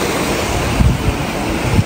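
A river flows outdoors near Chamonix, a steady, loud broadband rush of water with wind buffeting the microphone, continuous throughout with no talk.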